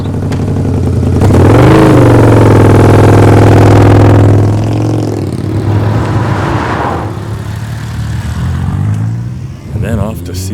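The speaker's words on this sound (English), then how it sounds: "some of Ihi's friends who had gloriously loud and impressive bikes" Loud motorbike engines rev hard nearby on a New Zealand trip, rising in a strong roaring sweep and settling into idling rumble, with further revs and voices mixed in.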